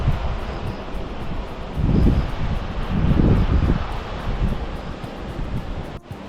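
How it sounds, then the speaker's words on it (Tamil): A large river rushes through the valley below a church on an estate near Valparai, heard as a steady broad roar of water mixed with wind buffeting, swelling slightly in the middle, with a thump near the end. "கீழே பாருங்கள் எவ்வளோ பெரிய ஆறு ஒன்று ஓடுது பாருங்கள்"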